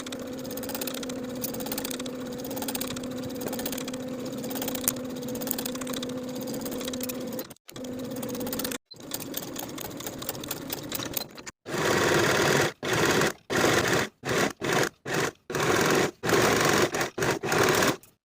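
A sewing machine stitches a seam on a kimono robe jacket, humming steadily at first and then running in short bursts separated by brief pauses, close by.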